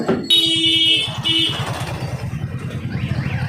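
A motorbike engine rumbling close by with a pulsing exhaust note, accompanied by a brief high-pitched tonal beep or horn, then continuing as it pulls away outdoors near a river.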